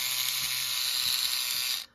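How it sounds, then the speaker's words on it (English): An old electric toothbrush runs loudly and steadily at close range while cleaning clock movement parts from a Westclox Big Ben Style 7, then switches off abruptly near the end. "in my case, I've got an old electric toothbrush here now"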